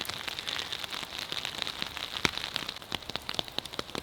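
Rain falls steadily in a cemetery in Chesterfield, UK, near the chapel of rest and large memorials, a continuous close patter and hiss broken by sharp individual drips and splashes.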